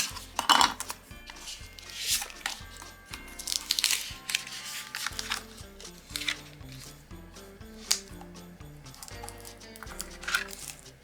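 A tool burnishes vinyl transfer tape down onto a Cricut Christmas craft project, making repeated short scraping strokes at an uneven rhythm, close to the mic, over soft background music.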